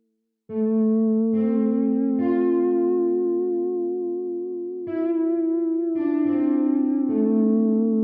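A sustained, harmonically rich tone with drifting pitch, washed in heavy reverb and echo that smears each new note into a long, spacious tail.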